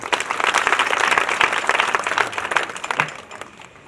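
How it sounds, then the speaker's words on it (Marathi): An audience claps at a devotional kirtan gathering at Balaji temple in Lohara, a dense burst of applause that stays strong for a few seconds and then trails off to quiet. "कृपया करून सर्वांनी टाळी वाजवायची."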